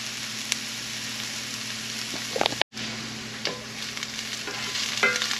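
Onions sizzle and fry in rendered chicken fat in a pan, a loud, steady close crackle with a few stirring scrapes and a brief cut partway through.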